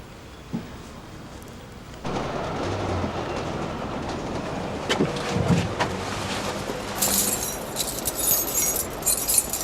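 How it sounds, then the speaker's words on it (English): A large bunch of keys jangles and clinks, bright metallic rattling near the end over a steady rumbling background. "Got enough keys there, Chris."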